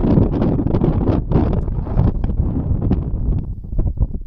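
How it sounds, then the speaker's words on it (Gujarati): Wind blowing across a cumin field, heard as loud, gusty buffeting and rumbling on the microphone with some rustling, and no speech. "અને કદાચ થોડો ઘણો પવનનો અવાજ આવતો હોય."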